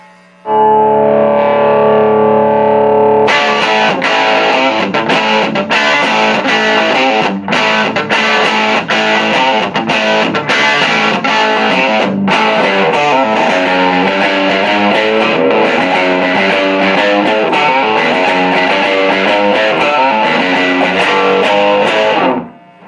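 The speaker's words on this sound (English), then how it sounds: "we're going to really break into this 60s, 70s classic overdrive sound" A heavily overdriven electric guitar through a Fender Tremolux 5E9 clone tube amp plays a crunchy classic rock riff, loud and sustained, starting with a held chord before driving, choppy rhythm.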